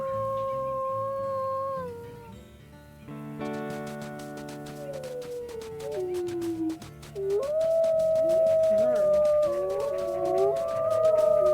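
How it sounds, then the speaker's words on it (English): Wolves howl in the video game WolfQuest. Long, sliding tonal howls rise and fall, with several voices overlapping into a chorus that grows louder toward the end. "Now I'll howl a little bit"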